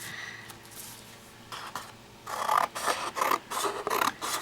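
Scissors cutting through cardstock while making a Halloween collage card, close rasping snips that become more frequent and rhythmic in the second half, with no talk.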